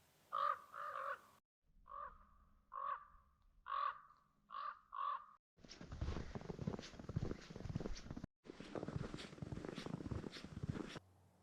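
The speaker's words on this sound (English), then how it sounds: "Despite the snow, these ravens were deep in conversation." Ravens call in snowy winter woods in Calgary's Griffith Woods, a run of deep croaking caws in pairs and short bursts, clear and fairly close, followed by a stretch of steady broadband rustling noise.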